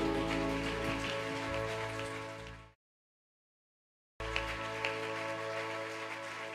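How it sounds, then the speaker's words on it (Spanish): Congregation applause during a church service: a soft, dense patter of many hands, steady and somewhat distant, cut by a short stretch of silence before resuming. "Denle un aplauso a él, por favor."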